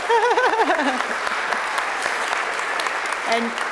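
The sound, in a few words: audience applause at induction ceremony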